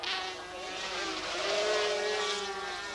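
Four-cylinder two-stroke sidecar racing engines at Silverstone in 1984 give a sustained, high-pitched buzzing whine, steady and moderately distant, with the pitch sliding slightly as machines pass.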